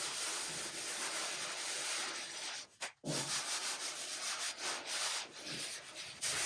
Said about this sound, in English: I like using a little bit of a guide coat. Use 150 grit on a flat block.